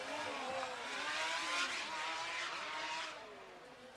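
Stuttgart Formula Student race car slowing down, its engine whine falling and fading with a faint tire noise, softening toward the end.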